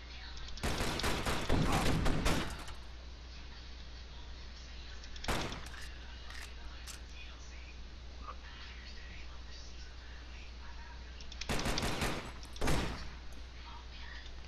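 Pistol gunfire in a video game, clustered rapid cracking shots in short bursts near the start, a couple of isolated shots in the middle and another burst near the end, over a low steady hum.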